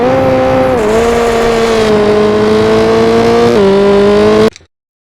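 A rally car engine in the video game Richard Burns Rally holds a loud, close, steady rev with a couple of brief dips in pitch, then cuts off abruptly.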